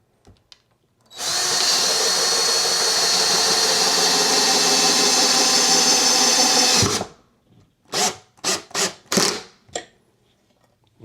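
A power drill drives a screw into a wall stud while a guitar wall mount is installed, a loud steady whine for about six seconds, then several short trigger bursts as the screw is seated.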